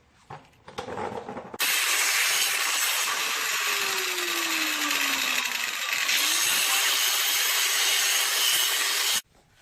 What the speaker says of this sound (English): So I'm going to trim this down just a little bit, grind it down just a little bit